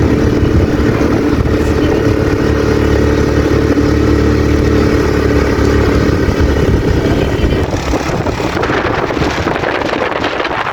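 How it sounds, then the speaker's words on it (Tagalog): A small scooter motorcycle engine drones loudly and steadily as it rides in Bukidnon, with heavy wind buffeting the microphone and some rattling. "pasensya lang sa mabagal na yung motor kasi scooter lang yung dala namin dito"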